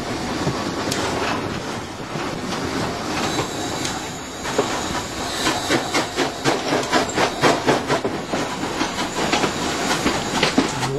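Steam locomotive 200.05 of the FNM railway running with vintage carriages, a steady chuffing roar with rhythmic exhaust beats and wheel clatter growing stronger and more distinct, close by, with no talking.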